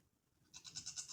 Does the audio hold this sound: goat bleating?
yes